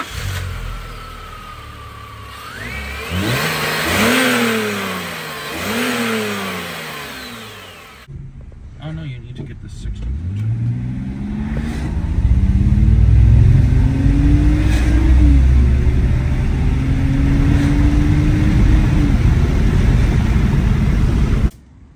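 A car engine fitted with a cheap Amazon aftermarket air intake revs twice in sharp swells, then pulls through a long, loud acceleration with rising engine tone, heard close and alone.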